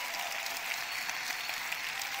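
A church congregation claps for the Lord during a sermon, a soft, continuous patter of many hands that sounds somewhat distant and stays steady, with no voices on top.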